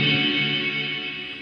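Sustained, distorted tone drenched in a big Safari Pedals reverb with a short pre-delay, a dense held wash that slowly fades over a second and a half with no voice.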